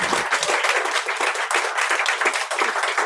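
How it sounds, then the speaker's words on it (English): Audience applause after poets finish reading at a festival poetry evening: dense, sustained clapping from a room full of people, close and steady for the whole stretch with no talk. "Give a huge clap again, please, for Sarah and for Daragh."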